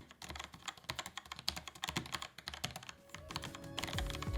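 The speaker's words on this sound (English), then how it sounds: "And the SteelSeries SQ1 switch is definitely the quietest." Quiet typing on a keyboard fitted with SteelSeries SQ1 switches, a soft flurry of muffled keystrokes heard close, with a faint hum entering toward the end and no one speaking.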